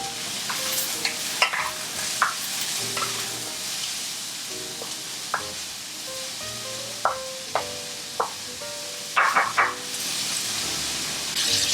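Peas and onions stir-frying in a hot pan for shrimp fried rice give off a continuous loud sizzle, with scattered scraping clicks from stirring and a cluster of sharper knocks toward the end.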